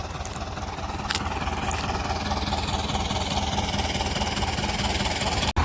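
A diesel tractor engine runs steadily nearby, straining to pull a stuck trailer, a loud, even chugging rumble throughout, briefly cut off by a sharp click near the end.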